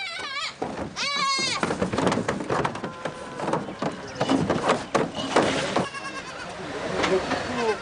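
Goats bleat repeatedly at a livestock market in Nizwa, Oman, loud wavering cries overlapping with crowd bustle and knocking, while people talk nearby throughout.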